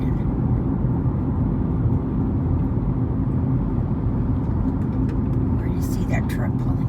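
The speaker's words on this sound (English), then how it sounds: "That truck pulling out, the car pulling in" Steady low road-traffic rumble heard from inside a moving car as a truck pulls out and another car pulls in nearby, a continuous drone filling the clip with faint higher noises near the end.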